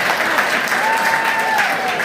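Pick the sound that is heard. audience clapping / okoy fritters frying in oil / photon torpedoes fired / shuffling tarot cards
audience clapping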